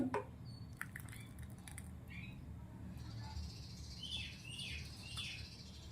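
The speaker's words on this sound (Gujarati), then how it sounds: "કેટલો સરસ મજાનો પક્ષીનો અવાજ આવી રહ્યો છે" Small birds chirp and tweet outdoors near a home kitchen where soup is served, with faint scattered calls at a distance that pick up in short bursts over a quiet background.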